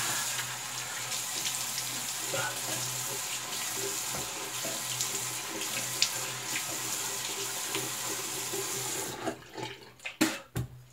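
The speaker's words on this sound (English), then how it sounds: "I'm going to rinse off the alum." A bathroom tap runs steadily as alum is rinsed off after a wet shave, a continuous close splashing stream that stops near the end, followed by a few brief knocks and splashes.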